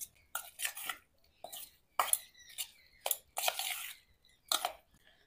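Mushroom momo filling with white oil and a spoonful of momo sauce being mixed together in a bowl: close, irregular squelching and scraping bursts in quick clusters with short pauses, no talking.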